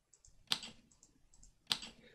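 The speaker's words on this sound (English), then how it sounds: "the sound I want it to play is this typewriter sound" Typewriter sound effect in a Unity dialogue scene, a quiet sequence of soft clicks with two sharper key strikes, repeating in an irregular typing rhythm.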